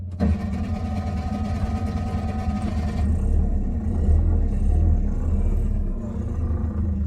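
An oddball trike, likely a Honda Caren or Bajaj, starts up nearby: a short cranking burst catches into a loud, steady low engine rumble that settles into a rough idle.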